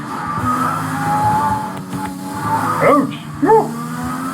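Race car skidding in a racing video game with a damaged wing, engine drone under short squealing tire slides, while a player talks over it.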